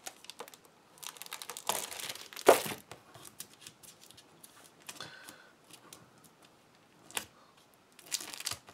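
Paper crinkles and rustles as a Stampin' Up! mini catalog for January to June 2021 is unpacked, with irregular close crackling bursts, one sharp loud crunch and quieter stretches between, and no talking.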